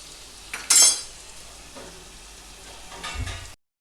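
Tomatoes added to softened cooked onions in a pan, with a brief loud sizzling splash near the start, then quiet low frying and a soft utensil scrape toward the end.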